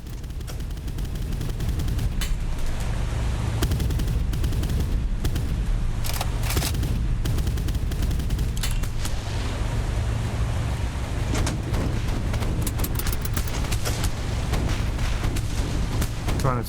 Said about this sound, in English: Taking some shots. There's some nasty hits.